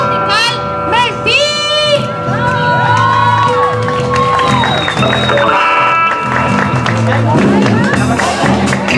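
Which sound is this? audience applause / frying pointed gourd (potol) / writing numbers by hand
audience applause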